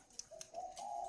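A spotted dove with red eyes and a white-spotted neck coos softly, a few low hollow notes rising into a sustained coo, faint and alone.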